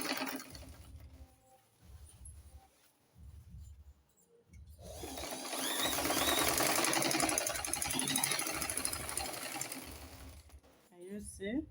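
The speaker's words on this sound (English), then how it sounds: "So I can stitch on it right now this way." A sewing machine stitches a full skirt lining at the waistline, heard close up as a rapid mechanical hum that swells in the middle and fades, with someone talking over the quieter start and end.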